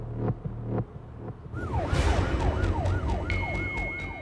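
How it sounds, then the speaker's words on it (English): An ambulance siren wails close by as an emergency vehicle heads out on a code red call in Dudley, opening with a few horn-like blasts before settling into a loud, rising and falling electronic sweep. "An ambulance has been dispatched to an address in Dudley for a code red emergency"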